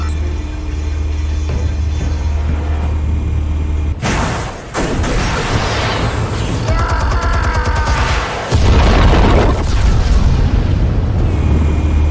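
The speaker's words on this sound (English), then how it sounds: "Explosives armed. Fire when ready." Explosives detonate in Batman: The Telltale Series, with deep rumbling booms and crackling blasts layered over a continuous loud game soundscape and a heavy low drone, one sharp burst standing out near the middle.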